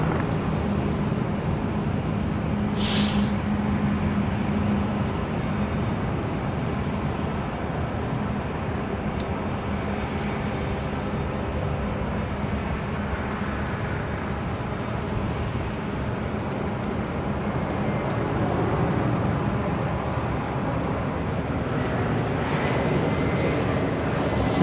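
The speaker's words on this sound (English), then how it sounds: "this is Japan Airlines Flight 61 heading back to Tokyo Narita on a 7879 Dreamliner" A Japan Airlines Boeing 787-9 Dreamliner roars steadily on its takeoff at LAX, a loud continuous jet rumble from start to finish with a brief sharp click early on.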